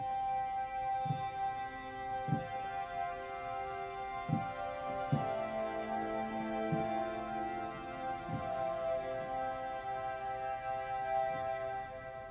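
A bright, shimmering synth pad called Vessel's JP Shimmer, played on a keyboard in a worship song, holds sustained chords with soft low note pulses underneath, steady and clear with no talking.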